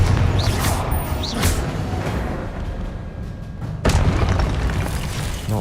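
Confringo spell blasts in the Hogwarts Legacy video game, deep booming explosions with rumbling debris, one big burst followed by another heavy impact partway through, loud and close.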